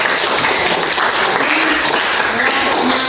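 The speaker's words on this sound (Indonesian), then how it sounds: "Nah, berarti kelompoknya Bina, tepuk tangan semuanya ya." Classmates applaud together in a school lesson, a dense steady wash of clapping held at even loudness for about three seconds, with children's voices chattering underneath.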